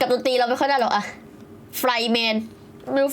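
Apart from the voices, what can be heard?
No everyday noise stands out behind the speech.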